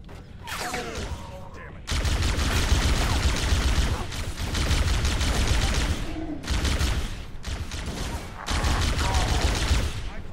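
Bursts of rapid, loud gunfire from the video game Halo, from an overheating gun, come in several long volleys separated by short pauses, with faint voices between them.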